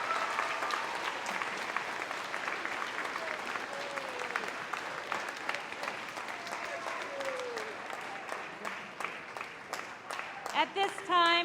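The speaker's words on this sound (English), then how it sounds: "Let's have one final round of applause for all of our 8th graders." A school audience applauds at an 8th-grade moving-on ceremony, steady clapping throughout from a large crowd, with a brief burst of louder, closer claps near the end.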